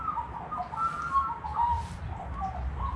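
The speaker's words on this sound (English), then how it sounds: "And the birds are out." Birds whistle and call outdoors in New Zealand, with repeated tonal chirps and coos over steady low background rumble, moderately distant, with no talking.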